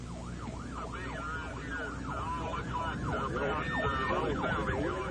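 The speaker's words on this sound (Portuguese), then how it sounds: "minha sirene estava ligada" A storm chaser's vehicle siren wails in rapid repeating up-and-down sweeps, loud and steady over road and engine rumble.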